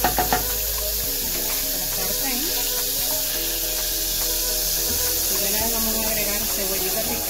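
Butter sizzling and hissing in a hot pan as it begins to sauté for a thick béchamel, a steady close frying sound with faint stirring clinks throughout.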